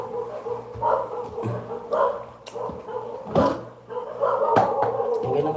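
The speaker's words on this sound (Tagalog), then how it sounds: "Maingay yung aso." A dog barks repeatedly in short, loud bursts at irregular intervals, fairly close by, with faint background noise between the barks and no talking.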